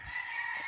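A chicken at a poultry farm gives a brief, faint, tonal call lasting under a second. It stands alone with no talk.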